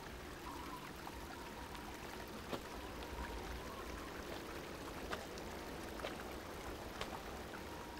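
Water flowing in a stream out in open countryside, a soft continuous trickle and gurgle with faint scattered splashes and clicks, quiet and steady throughout with no voices.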